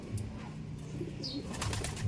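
Racing pigeons arrive at a loft, with soft wingbeats fluttering in short bursts close by, a faint coo or chirp now and then over a steady low outdoor background.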